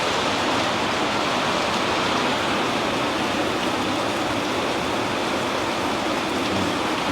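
Steady, dense hiss of rain falling, continuous and fairly loud with no voices and no break.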